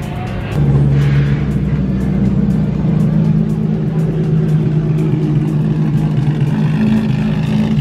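A Ferrari F50 engine idles loudly nearby, then settles into a steady, deep droning rev that holds for several seconds.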